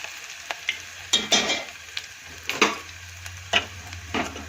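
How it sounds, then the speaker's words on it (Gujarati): Onions frying in a pan during cooking of masala Maggi rice, with a steady low sizzle under repeated sharp scrapes and clinks as a spoon stirs the pan, close up. "ડુંગળી શેકાઈ ગઈ છે"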